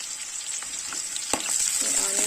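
Onions sizzle in hot oil in a pan, a brinjal curry in progress. A steady bright hiss runs close and fairly loud, with a spatula knock near the middle.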